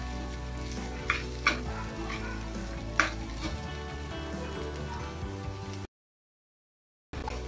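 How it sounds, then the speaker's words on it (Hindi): Mashed potato filling for masala dosa fries with spices in a pan, a steady sizzle with a few sharp stirring scrapes, close by, briefly cutting to silence near the end. "मैश किया हुआ आलू डाल देते हैं, इनको भी अच्छी तरीके भून लेते हैं।"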